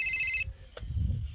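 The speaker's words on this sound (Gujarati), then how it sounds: "ફોન આવ્યો છે" A phone ringtone sounds for about half a second with a bright repeating electronic tone for an incoming call, then cuts off into a brief click and low room noise.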